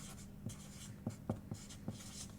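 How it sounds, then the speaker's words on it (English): A marker writes on a cardboard shipping box packed for a live plant order, giving several faint, short squeaky strokes in quick succession against quiet room tone. "I take a marker and I write on the box"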